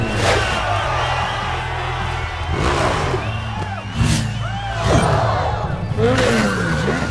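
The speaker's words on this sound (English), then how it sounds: "Bikes don't cheer like that for just anybody." A crowd of cartoon motorbikes in Ricky Zoom whoops and cheers in several excited swells, mixed with engine revs and tire noises, loud and lively over a music bed.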